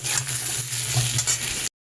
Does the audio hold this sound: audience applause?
no